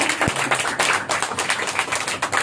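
A congregation claps at a church sermon, a quick run of sharp, even claps repeating steadily for a couple of seconds against a light room background.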